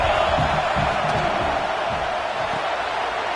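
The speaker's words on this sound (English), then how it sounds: "This crowd knows this defense needs them right now." A football stadium crowd roars continuously as the home defense lines up in the red zone, a dense, loud wall of cheering and shouting that holds steady throughout.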